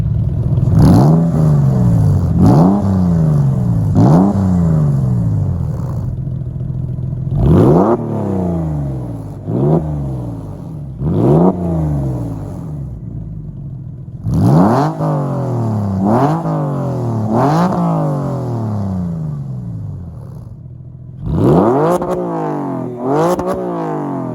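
A Porsche 996 engine revs repeatedly, rising sharply and falling back in a series of loud bursts with brief pauses, exhaust roaring close by through Supercup or delete pipes.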